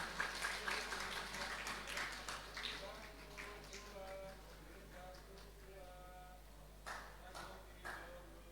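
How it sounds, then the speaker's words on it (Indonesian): School graduation audience clapping for students receiving awards, a dense crowd applause that gradually thins over several seconds, with a steady low hum beneath and voices audible through it. "Kita beri tepuk tangan yang lebih meriah lagi."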